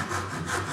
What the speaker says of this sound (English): Now concentrating on sawing down to line.